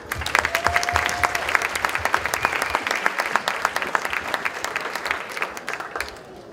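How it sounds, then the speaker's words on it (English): Audience at a student skit show during a Saudi Night event fills the room with loud, dense applause that fades slightly toward the end, with no talking over it. "how about a round of applause to get the show started?"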